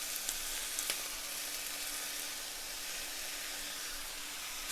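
Shrimp stir fry with mushrooms and bean sprouts sizzles steadily in a hot pan, a soft even crackle with a few light clinks of stirring early on.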